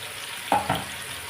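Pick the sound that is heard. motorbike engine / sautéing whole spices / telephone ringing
sautéing whole spices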